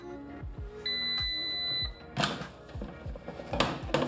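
A Cosori air fryer sounds a single sustained electronic beep of about one second when cooking finishes, amid kitchen clatter and low background noise.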